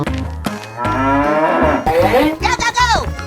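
A cartoon cow in a 3D animal slide game moos loudly in a single long, drawn-out call, clear and close with no talk over it.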